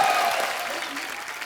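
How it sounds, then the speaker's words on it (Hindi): Steady applause from an audience, a dense wash of clapping that carries evenly through the short clip and tapers slightly at the end. "जोरदार तालियां"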